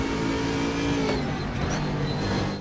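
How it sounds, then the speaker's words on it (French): A race car in the Raceroom video game pulls hard through fourth gear, a loud steady engine drone with harmonic tones holding throughout, no voices. "Elle réaccélère en 4."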